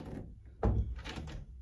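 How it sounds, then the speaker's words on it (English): A keypad door lock mechanism gives a soft thunk followed by a brief whirring motor sound, close and quiet, with no talking. "you can hear it locking and unlocking as I'm doing the button"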